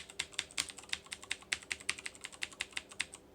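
Rapid typing on a computer keyboard, about twenty sharp, even keystrokes in quick succession, close and clear with no voices.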